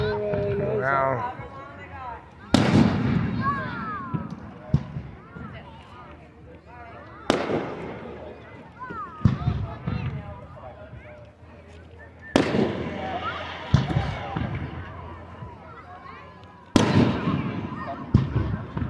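Fireworks booming over the Frankford Riverfest in Quinte West, with four or five heavy, echoing blasts spaced several seconds apart and crackle in between, while spectators talk and cheer nearby.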